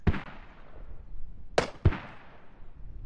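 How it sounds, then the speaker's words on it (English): Smoke grenade going off in Squad, a few sharp pops with a short ringing decay, one at the start and two more close together after a pause, moderately loud against quiet surroundings. "It's a fucking smoke grenade."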